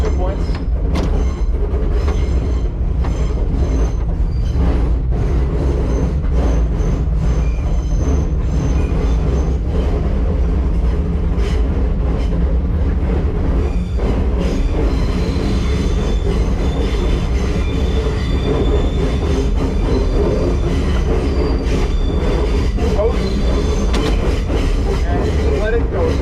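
An R9 subway car runs along rails at the Shore Line Trolley Museum in East Haven, Connecticut, with a steady loud rumble, clattering wheels and occasional squeals that continue throughout, while voices talk faintly underneath.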